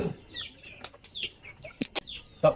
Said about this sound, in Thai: เลี้ยงไก่ด้วยครับ ไก่ที่นี่มันเดิมกินตามธรรมชาติครับ